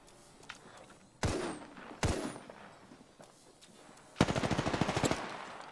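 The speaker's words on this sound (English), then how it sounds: "Taking fire, brothers." Gunfire in the video game Apex Legends: two sharp, loud shots followed by a rapid automatic burst near the end, over a low background of game ambience.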